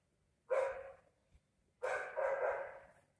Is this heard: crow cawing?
no